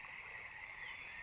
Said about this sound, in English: Wow! A common frog.